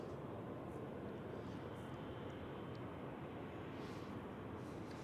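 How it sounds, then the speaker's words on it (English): A British Airways airliner landing at Zurich Airport in crosswinds, heard as a steady, broad jet roar that holds even and fairly loud throughout, with no voices. "Two British Airways landings right in sequence."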